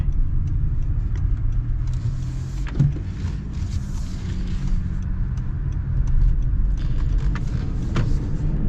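A 2025 Honda CR-V Hybrid with a CVT drives in econ mode, giving a steady low cabin rumble of road and drivetrain noise, heard from inside with faint clicks and ticks.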